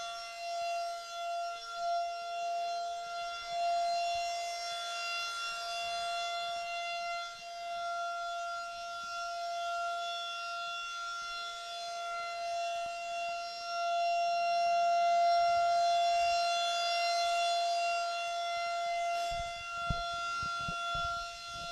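A civil defense warning siren wails steadily outdoors at a lacrosse field, a sustained tone that swells and fades slightly as it rotates, heard from a distance.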